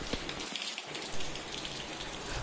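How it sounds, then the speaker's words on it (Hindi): Heavy monsoon rain pours down in Tonk, Rajasthan, a dense, steady hiss of drops striking surfaces, loud and continuous with no voices. "ये बरसात लगातार आधे घंटे से हो रही है"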